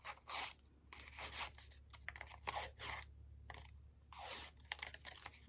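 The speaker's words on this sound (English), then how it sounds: "Just run it through the die cutting machine once." A paper treat box passes through a die cutting machine, giving faint, close crunching and rasping bursts in an uneven rhythm, alone without voices.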